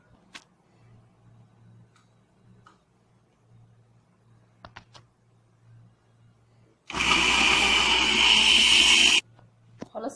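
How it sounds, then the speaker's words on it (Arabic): An electric kitchen blender whirs loudly for about two seconds, blending seven dates with a cup of boiled water into a puree, after quiet moments of faint clicks and handling. "واخلط الخلاط لحد ما يبقى بوريه"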